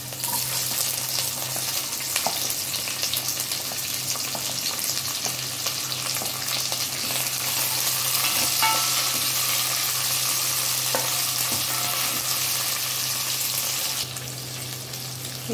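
Onions sizzling in a hot pan with ginger and garlic for an Indian paneer curry, a loud, continuous close frying hiss with occasional stirring scrapes, easing slightly near the end.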